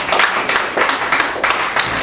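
Audience applause breaks out at a Lake County Liberty Coalition gathering: a dense, steady wash of many hands clapping, with rhythmic surges roughly every quarter second, close and fairly loud, with no talking over it.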